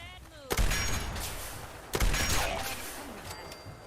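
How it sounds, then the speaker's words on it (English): Two loud gunshots ring out in the Fallout 4 video game, spaced about a second and a half apart, each leaving a long reverberant tail over quiet background game sound. "Yo, Piper, go shoot."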